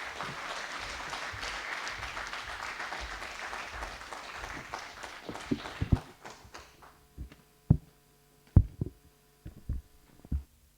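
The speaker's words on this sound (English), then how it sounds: "Let's give him a warm round of applause." A warm round of applause from the audience at a closeout event welcomes a speaker, dense steady clapping for about six seconds, then thinning out into a few scattered, louder individual claps.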